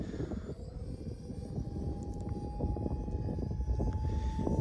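A scale RC model of the Avro Arrow CF-105, about 860 grams, flying overhead with a steady high-pitched electric whine over wind rumble, holding at a moderate distance with a slight swell in loudness.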